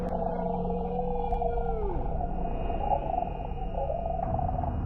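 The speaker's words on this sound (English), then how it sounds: "emitting low vocalizations that resonate through the hull" Low whale-like creature calls resonating through the hull of a deep-sea submersible, long sliding moans and a steady tone over a dense underwater rumble, loud and close, with no voices.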